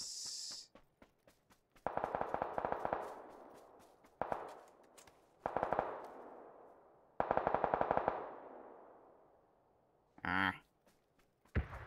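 Several loud, close bursts of automatic gunfire from PUBG, each a rapid run of shots, separated by short pauses with a few single shots and a brief metallic clatter near the end.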